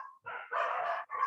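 Dogs barking in a quick run of several sharp, close barks, clear and alone without any talk.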